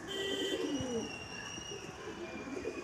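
A Madrasi pigeon, a long-distance flier, gives a soft, rolling coo up close, with a faint higher whistle running underneath.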